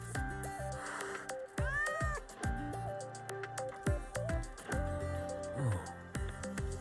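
A frightened stray cat in the game Wuthering Waves meows repeatedly, several rising and falling cries spaced across the stretch, close and clear over a quiet ambient background.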